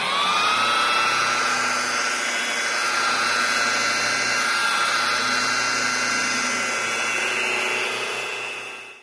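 A polishing buffer with a foam pad works compound into car paint on a hot rod restoration, giving a continuous whirring motor whine that is steady and close, with a slight pitch sweep early on.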